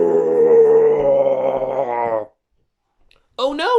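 A storyteller's voice imitating a bear's diabolical roar, a long, low, growling groan lasting about two seconds, loud and close, followed by silence and then the start of more speech.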